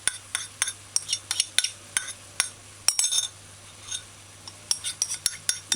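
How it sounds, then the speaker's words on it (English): Beef and broccoli stirred in a pan with oyster sauce, a utensil scraping and clinking against the pan in quick irregular taps over a steady low hum, close and fairly quiet. "you just take a couple stir, and then add your sauce, your oyster sauce"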